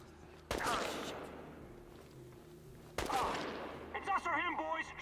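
Two sharp bursts of gunfire in the video game Chernobylite crack out a few seconds apart, each decaying quickly, followed by a short burst of tonal electronic sounds.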